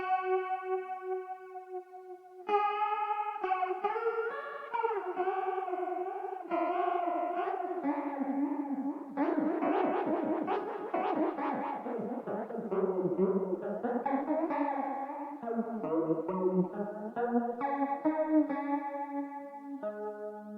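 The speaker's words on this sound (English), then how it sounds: "Let's take a listen to our guitar track and slowly increase this rate to hear the difference." Electric guitar track through a flanger whose LFO rate gradually speeds up, the sweeping whoosh growing faster and choppier across melodic phrases, played alone at moderate level.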